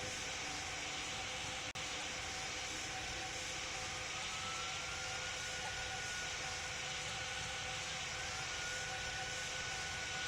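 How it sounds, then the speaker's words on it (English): A jet airliner, an Emirates 777 in the ATC 24 flight game, roars through its takeoff. The jet engine noise is loud, broadband and continuous with a steady whine, and no one speaks. "Emirates 777 takeoff clear"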